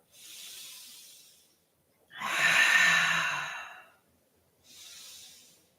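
Three breathy exhalations during a yoga forward fold, the middle one longest and loudest with a hissing, sigh-like rush, and the outer two softer, close and alone with no talk.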